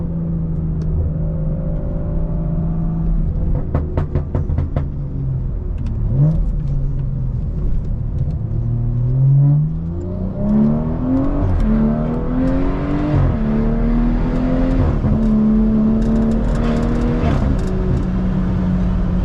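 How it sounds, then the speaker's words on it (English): Deep exhaust drone from a 550-horsepower BMW 340i with a B58 engine while driving, steady rumble rising and falling through several gear pulls, heard from inside the cabin with no talking. "I usually have my back seats down so you guys can hear the exhaust even more."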